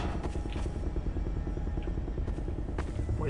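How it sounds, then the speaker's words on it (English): Military helicopters in the Half-Life Echoes video game, a steady low rotor thump that rolls on without a break beneath the game's ambient noise. "there's military helicopters"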